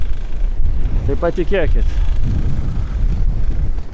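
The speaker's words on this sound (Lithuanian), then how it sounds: "vėjas šniokščia" Strong wind roars across the microphone aboard a sailing boat under sail, a loud, constant low rumble throughout, with a person briefly speaking over it partway through.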